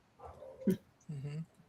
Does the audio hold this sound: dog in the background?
yes